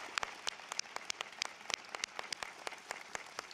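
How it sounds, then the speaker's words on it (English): Scattered clapping from a small number of hands at a college commencement, sharp individual claps at an uneven rhythm, fairly faint. "Please give yourself a round of applause."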